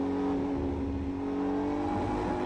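A GT race car at Virginia International Raceway qualifying accelerates hard out of a corner, its engine droning loud and steady with rising harmonics, close and alone.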